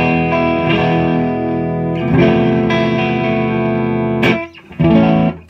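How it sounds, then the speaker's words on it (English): A clean electric guitar on an Ironstone neck humbucker through a 100-watt Marshall JCM 900 amp plays sustained chords, warm and ringing, with brief pauses and a pick scrape between phrases. "I'm on the neck pickup humbucker, rather. So this is clean sound."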